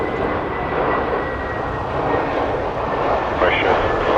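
An Air Canada Rouge Airbus A321-211 from Orlando moves near Toronto Pearson runways, a broad, loud, steady jet engine roar with a faint whine holding throughout, while a voice talks over it.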